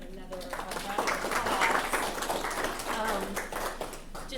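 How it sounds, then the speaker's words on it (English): Audience applause follows a talk about the N.S. Savannah exhibit, with steady clapping filling the room for several seconds and a voice speaking over it. "Let's give Earhart another round"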